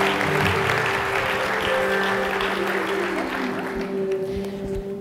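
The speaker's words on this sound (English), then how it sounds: "How about a round of applause?" Audience applause at a new media technology expo, a dense, continuous wash of clapping heard throughout at a steady level, easing slightly toward the end, with a faint steady hum beneath.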